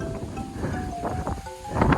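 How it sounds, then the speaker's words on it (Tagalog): Wind blows outdoors beside a canal in Japan, a steady rushing and buffeting across the microphone that grows stronger toward the end, with faint tonal hums underneath. "Sarap ng hangin."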